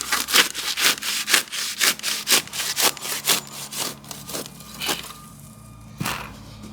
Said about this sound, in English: I'm going to give it a trim here as well.